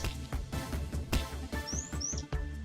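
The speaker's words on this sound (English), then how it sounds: "That's Punishment Bird. That's what he sounds like." Punishment Bird from the video game Lobotomy Corporation gives quick high cheeping chirps, a couple of rising tweets among rapid clicky in-game percussion and music, quiet in the mix.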